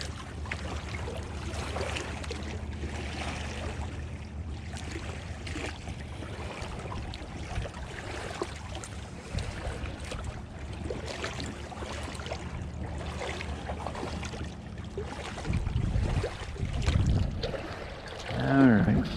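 Choppy water on the Ohio River on a cold, windy day churns and laps steadily at moderate distance, with a low rumble of wind and a few louder splashes toward the end.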